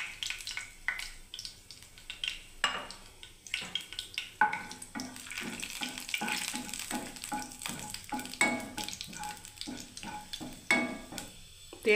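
Dried red chillies crackle and sizzle in hot oil in a pan, with a steady frying hiss, scattered pops and occasional stirring clinks throughout, close and moderately loud with no talking.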